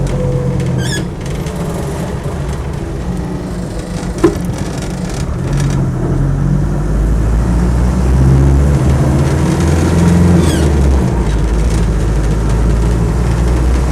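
Military-spec Land Rover 110 with a 2.5 diesel engine driving along, a steady low engine drone and rumble running continuously with faint rattles and creaks, fairly close and unbroken.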